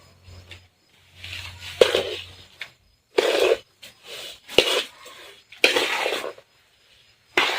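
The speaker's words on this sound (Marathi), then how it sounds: "हळद मिक्स करून घ्या अगोदर आता परत छान असं मिक्स करून घ्यायचं" Raw mango pickle from a 30-kilo batch being stirred by hand with turmeric and spice masala in a large vessel: close, intermittent bursts of scraping and clattering separated by brief silences.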